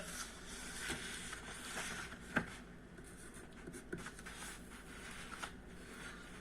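Pen writing out a physics question on a board or paper, a steady scratchy stroke sound with small taps and one sharper knock, fairly quiet and alone.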